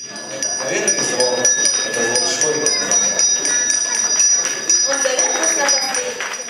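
A small hand bell rings on and on with bright, rapid jingling over a noisy outdoor crowd at a school's last-bell ceremony marking the end of the school year.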